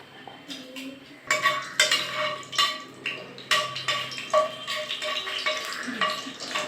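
A spoon clinks and scrapes steadily against a pot as onions are stirred with cinnamon, cardamom and cloves, sharp irregular metallic taps close by over a faint background hiss.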